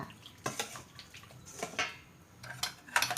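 Squid and lemongrass salad being stirred with lime juice in a bowl, with several short scraping and clinking utensil strokes and soft wet mixing sounds spread through the clip, close and fairly quiet.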